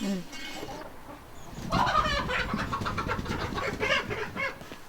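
Hens and a rooster cluck and squawk close by, louder in the second half, with a faint voice at the start.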